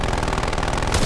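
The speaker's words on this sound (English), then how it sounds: "Sentry gun! Sentry gun!" Rapid automatic gunfire from a sentry gun in Call of Duty, a dense, steady stream of shots at close range that fills the whole burst and ends in a louder final crack.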